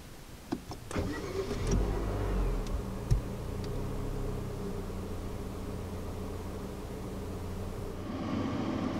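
A 2018 Nissan Kicks is started by push button: a few sharp clicks and a brief crank, then a steady low engine idle that carries on to the end, heard from inside the cabin.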